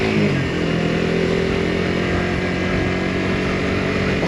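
Suzuki GSXR 125cc sports bike cornering around a roundabout, its small single-cylinder engine droning steadily and loud up close, with a constant buzzing pitch and no voices.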